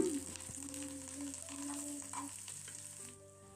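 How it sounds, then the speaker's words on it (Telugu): A tempering of oil, dried red chillies, onions and curry leaves keeps sizzling in a pan, a steady close crackle that thins out near the end. "పోపు కాస్త ఫ్రై అయ్యాక స్టవ్ ఆఫ్ చేసుకుందాం"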